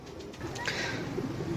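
Pigeons kept for sale in Jhelum, Pakistan, coo softly and close by, a short rolling call over steady low background noise.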